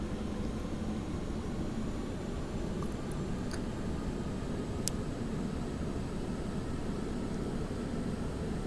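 A simulated airplane takes off in Flight Simulator X with a steady broad engine roar and rushing noise that holds constant throughout, with no talk.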